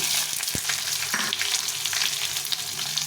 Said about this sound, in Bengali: পেঁয়াজটাকে একটু লাল করে ভেজে দেব